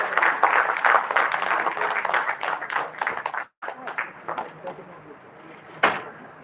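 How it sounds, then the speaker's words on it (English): Applause for a keynote speaker at a dental event: a crowd claps steadily, with a brief dropout midway, then the clapping thins into lighter scattered claps. "Can we have a huge round of applause,"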